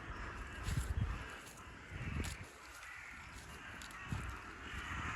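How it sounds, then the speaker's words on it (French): Crows cawing in a forest, several harsh calls in bursts near the start, middle and end, fairly close over a steady background hiss, with no talk. "Les oiseaux aussi commencent à devenir fous."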